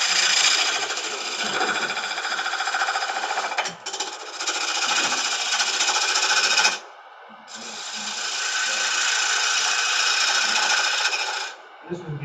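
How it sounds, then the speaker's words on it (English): A parting tool cuts into a wooden lidded bowl spinning on a lathe, making a loud, harsh, steady scraping whine in long runs broken by two brief pauses. "this is going to be a parting tool"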